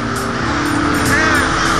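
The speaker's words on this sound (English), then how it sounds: "Inner sanctum of Auburn's crow roost, Kevin's cameras reveal a dynamic avian society." A dense chorus of crows caws continuously at an urban roost at dusk, loud and close, overlapping harsh calls with no pause.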